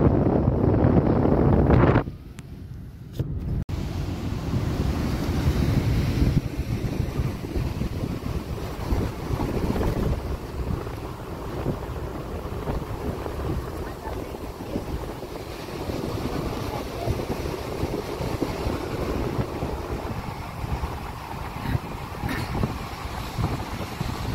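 Strong mountain wind near Jaswantgarh, Tawang, buffeting the microphone alongside a rushing river flowing over rocks, making a continuous loud broadband roar with a brief dip near the start.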